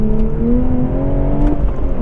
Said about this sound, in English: So let's do just a little bit of an acceleration, nothing crazy.